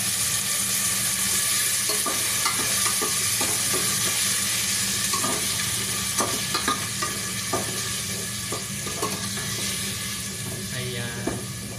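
Potatoes and browning onion frying and sizzling in a pan for corned beef, a steady close hiss with occasional stirring clatters throughout.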